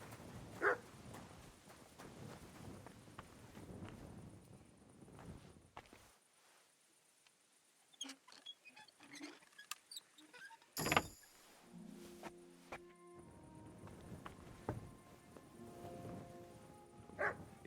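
Dog barking in the medieval game Kingdom Come: Deliverance, a few scattered sharp barks mixed with footsteps and hoof-like clopping, fairly quiet against a hushed background with brief louder bursts.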